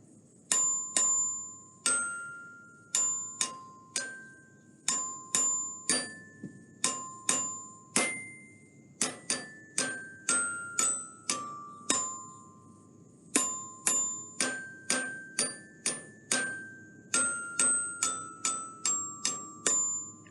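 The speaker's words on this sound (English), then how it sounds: "Next will be playing a melody on your bell." A melody is struck note by note on a bell in a percussion instrument demo: a steady series of bright, ringing metallic strikes, each decaying quickly, with pitches stepping up and down and no voices.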